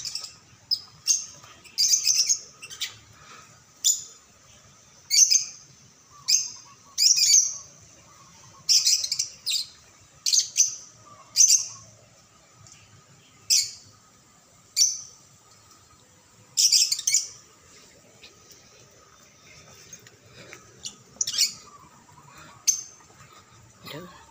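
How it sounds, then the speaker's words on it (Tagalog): Lovebirds chirp in short, repeated bursts of high, squeaky calls around a leafy church grounds, spaced every second or two with quiet gaps between, moderately close over faint background ambience. "Then merong mag-aawitan ng mga birds. Lovebirds."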